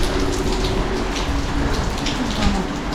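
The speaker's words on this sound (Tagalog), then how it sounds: "Ang lakas ng ulan" Heavy rain pouring on surfaces during a flooding downpour, a loud dense continuous hiss with scattered splashes, near and unbroken.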